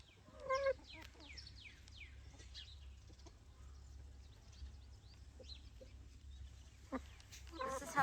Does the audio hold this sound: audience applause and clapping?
no